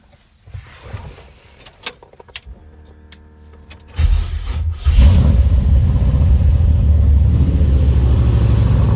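Scattered clicks and shuffling, then a 502 crate V8 in a 1950 Chevy Styleline Deluxe resto-mod cranks and roars to life, settling into a loud, deep, continuous rumble with slight revving through side-exit exhaust.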